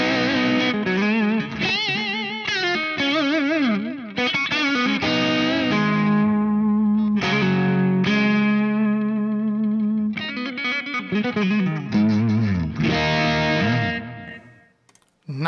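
An electric guitar plays through a Sonulab StompStation pedal with distortion and chorus, loud gritty chords and bending notes ringing continuously before fading out at the end.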